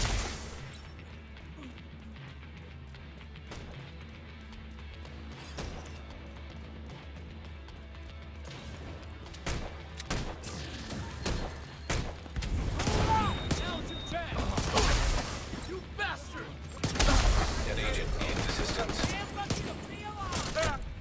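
Hostiles open fire during a video game shootout: scattered shots at first, then denser bursts and heavy impacts build toward the end, mixed with game voices and other effects.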